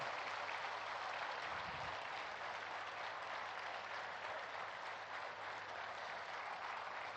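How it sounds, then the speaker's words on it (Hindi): A large audience applauds at the inauguration ceremony of the Swarved Mahamandir, a steady, dense and continuous clapping that sounds somewhat distant and subdued, with no voices over it. "हम सब तालियों की गड़गड़ाहट कर रहे हैं"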